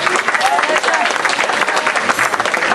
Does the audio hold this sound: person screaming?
no